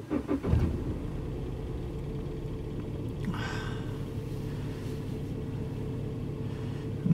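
A BMW E90 3 Series engine turns over and catches, then settles into a steady low idle that runs on evenly, heard from close by with no talking.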